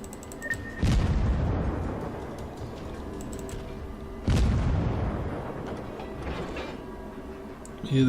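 Two heavy naval gun salvos from warships in World of Warships, each a deep booming blast that rolls off slowly, spaced several seconds apart over low mechanical background rumble.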